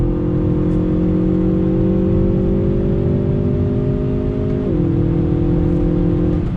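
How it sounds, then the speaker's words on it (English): A 2020 Hyundai Veloster Turbo hot hatch pulls hard in fourth gear at full throttle, its loud, steady engine note climbing in pitch, then dipping briefly on a shift before rising again. "Fourth gear, not even letting off throttle."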